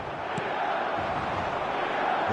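A packed stadium crowd roars steadily in a Premier League football video game, a dense, continuous wash of cheering with no breaks.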